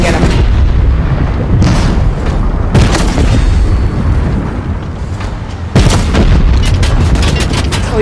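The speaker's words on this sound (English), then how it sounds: "Oh, he's shooting me with the turret." Tank turret fire in Fortnite, heavy booming blasts and rumbling explosions over dense continuous game noise, loud and close, with a sharp burst near the end.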